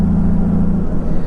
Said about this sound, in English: you can hear those 6 individual cylinders, and it gives the exhaust this like depth that I've never heard before